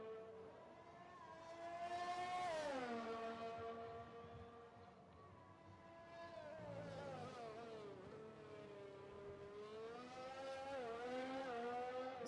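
An F1 race car on a flying qualifying lap around the USA circuit in the F1 2020 video game, its high-pitched engine screaming and rising through the gears, easing off into corners, then revving hard again in a steady, fairly faint drone.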